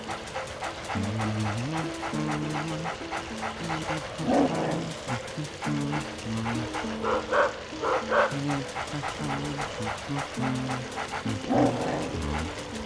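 A dog in the video game Luigi's Mansion barks and yaps in steady repeated bursts throughout, with panting, over a looping game music track.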